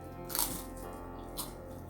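Thin slices of sweet potato tempura, deep-fried until crisp and grease-free, crunch when bitten. There are two distinct crisp crunches, close up, over a faint background hum.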